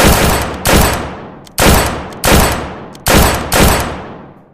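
Gunshots are fired at a group: six loud, sharp blasts, each cracking out and then ringing away before the next, arriving in uneven pairs close to the listener.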